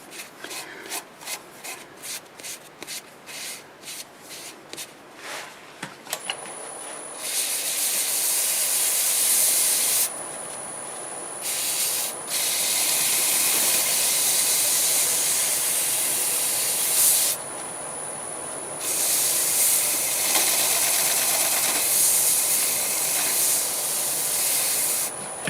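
Abrasive paste being rubbed onto a spinning black walnut piece on a wood lathe, starting with rhythmic short scrubbing strokes, then long continuous hissing friction with a high whine, broken by brief pauses.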